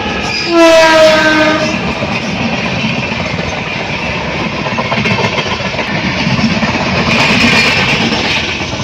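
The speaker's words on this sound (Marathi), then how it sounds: "चल चल ट्रेन स्टार्ट झाली" A train horn blares near the start, then the rumble and rattle of the Bandra–Madgaon Express rail cars rolling along on the Konkan Railway route carries on steadily and loudly.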